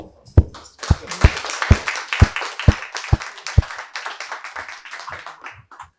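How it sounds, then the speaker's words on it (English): Clapping and applause from an audience at a journalism and politics event, a few loud, close individual claps over a scattered crowd that fades out toward the end, no talking. "So I'll give it another clap of applause for John."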